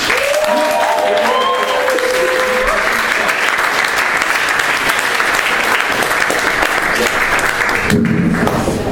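A large crowd at a comedy show claps loudly and steadily throughout, a dense, continuous wash of applause that holds at full strength to the end.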